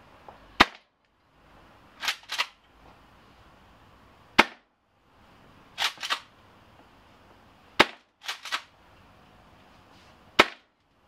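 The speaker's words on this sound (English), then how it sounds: "let's put some rounds through here." A Tokyo Marui M870 airsoft shotgun, fitted with a retractable gas stock and running on gas, fires through a Cortec chronograph: about nine sharp, close pops, some alone and some in quick pairs, with short pauses between them and no talk.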